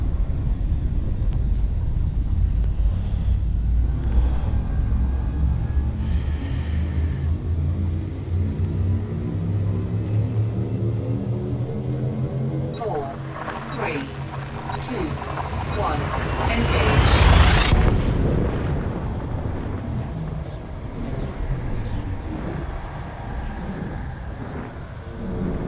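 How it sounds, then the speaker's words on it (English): Frame shift drive charging in the space game Elite: Dangerous, a deep, loud rumbling hum whose tones sweep steadily upward over many seconds and peak in a swelling surge before settling, with someone talking over it. "Frameshift drive charging."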